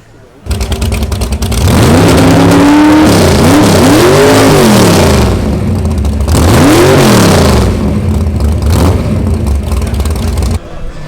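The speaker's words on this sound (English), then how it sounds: "We did see you revving the engine." A classic car at a hot rod show revs its engine hard several times, the pitch swooping up and down, then pulls away, loud and close with a steady engine rumble between the revs.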